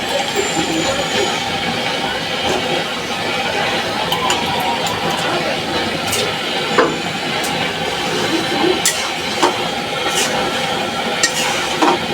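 Dense, steady sizzling runs for about twelve seconds, fairly loud and close, as a fried paste is added to lentils, with scattered sharp crackles and pops throughout and no voices.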